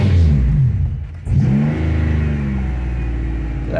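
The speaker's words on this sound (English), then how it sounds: "I start the car and make sure" A 2003 Chevrolet Impala engine cranks and catches after a brief lull, then revs up with a loud, close, rising drone that settles into a steady mid-pitched hum.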